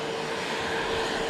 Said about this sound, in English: 787 Dreamliner just arrived